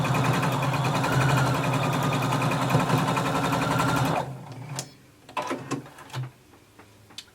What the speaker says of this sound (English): we're going to sew to the shoulder and stop